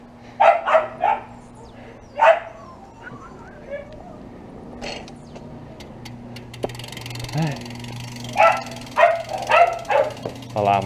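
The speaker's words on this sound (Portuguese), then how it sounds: "Cachorrada." Several dogs barking at a home on arrival after a BMX race track outing, with sharp bursts in clusters near the start and end, fairly close, and a brief voice and whimpering between.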